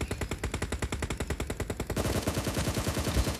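Automatic gunfire from an online shooter video game rattles in rapid, evenly spaced bursts, loud and close, with the firing continuing steadily throughout and no speech.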